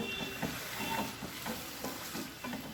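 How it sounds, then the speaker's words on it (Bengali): Water splashed into a hot frying pan of a dry winter vegetable dish, giving a steady, close sizzle with rhythmic stirring scrapes throughout and no talking. "এখন কিন্তু এতে জলটা অ্যাড করে দিতে হবে"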